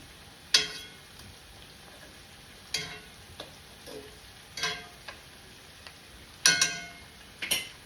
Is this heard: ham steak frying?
yes